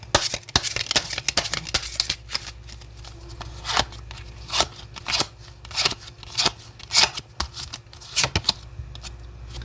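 Lenormand tarot cards are shuffled and drawn by hand, producing repeated crisp paper flicks and riffling snaps in an uneven rhythm, close and clear throughout.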